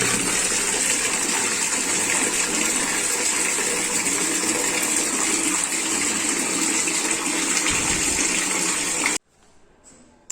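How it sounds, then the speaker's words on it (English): A loud, steady gush of cold water pours into a bucket for about nine seconds, then cuts off abruptly. "So this is the bucket. So I'll add some cold water now."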